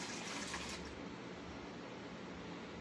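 Apple cider vinegar is poured into a pitcher for a fermented pickle brine, making a soft, steady liquid stream that is faint and heard alone.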